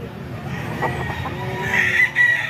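A gamecock stag crows at a cockfight, a single mid-distance crow rising near the end over crowd murmur and background clucking.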